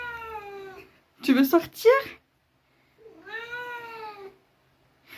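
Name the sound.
cat meowing to go out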